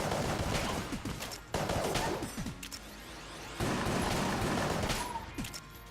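Rapid bursts of gunfire from the Enter the Gungeon video game, with dense overlapping shots in several loud volleys that start and stop abruptly throughout.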